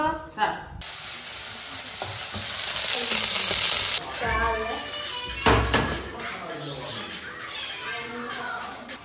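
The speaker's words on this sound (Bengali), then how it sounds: "এই যে দেখেন তেল দিল, লঙ্কা দিল," Chili hitting hot oil in a home kitchen pan sets off a loud hiss and sizzle, followed by crackling frying and stirring clatter, while people talk over it.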